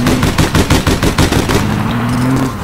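Rapid bursts of automatic gunfire in the online shooter game APB Reloaded, loud and close, followed by a sustained engine-like drone as the shots stop.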